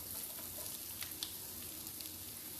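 White onions fry in a pan with a steady, faint sizzle and a few soft crackles and pops, with no talking.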